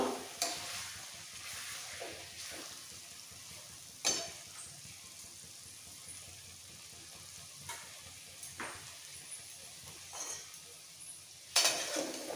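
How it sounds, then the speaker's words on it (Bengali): A ladle scraping and scooping gravy from a pot of cooked potato curry, soft intermittent metallic scrapes and clinks over a low simmer, quiet and close. "হাতায় করে কিছুটা গ্রেভি তুলে নিচ্ছি।"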